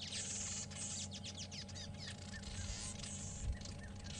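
A small bird gives faint, quick chirping calls during a safari drive at sunset, scattered over a couple of seconds against a low, steady background rumble.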